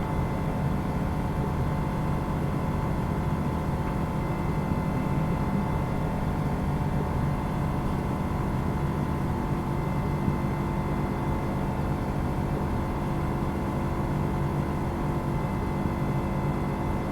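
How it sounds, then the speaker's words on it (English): Steady engine drone of a Diamond airplane in Microsoft Flight Simulator 2024, a continuous dense hum that holds level and unchanging throughout with no voices. "But the engine sound is still kind of fun."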